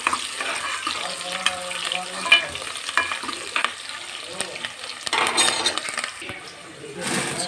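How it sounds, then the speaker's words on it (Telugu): Finely chopped onions frying in a pan for chicken curry, a close, steady sizzle broken by stirring scrapes and light clinks, with a voice talking over it. "అలాగే చిన్నగా కట్ చేసి పెట్టుకున్న ఆనియన్ అండి ఆనియన్స్ అయితే బాగా ఫ్రై అవ్వాలి"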